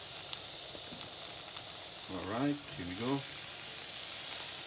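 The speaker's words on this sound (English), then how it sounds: "already making noise. The sizzling noise." A soft, steady hiss of chicken wings sizzling on a hot indoor grill, with someone speaking briefly over it partway through.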